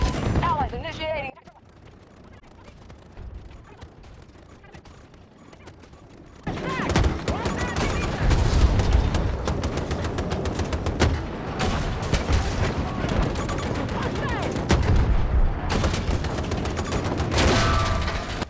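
Tank mortar fire in the Battlefield 2042 video game booms heavily and repeatedly over a dense, continuous wall of battle noise, explosions and gunfire, after a quieter opening stretch.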